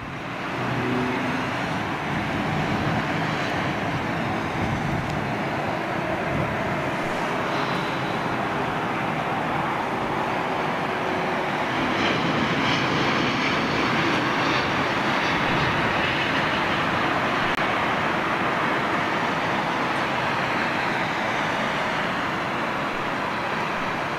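An Airbus A380 airliner landing at London Heathrow, a constant broad roar of jet noise sustained loudly for the whole stretch with no clear break.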